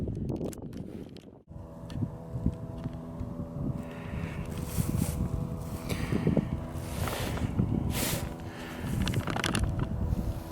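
A canoe or kayak paddle dips and swishes through calm water among lilies, soft strokes repeating under a steady light breeze and faint wind noise on the microphone, with no talking.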